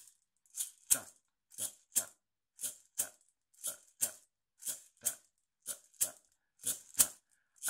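Maracas shaken in a Venezuelan-style rhythm, crisp dry rattling bursts in an even shuffling pulse, paired strokes repeating about every half second, close and alone.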